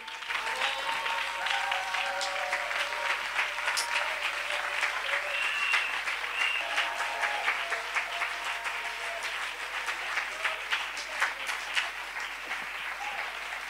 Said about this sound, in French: on se lève pour acclamer l'Éternel